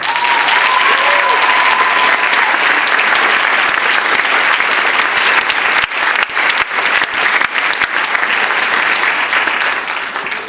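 Sustained, dense applause from a school concert audience for high school chamber orchestra students, loud and continuous throughout with a few sharper nearby claps standing out.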